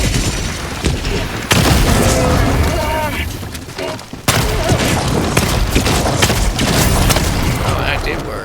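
Grenade blasts in Helldivers 2 give two sharp, loud booms a few seconds apart, each followed by crackling, splintering debris and rumble, with a voice talking throughout.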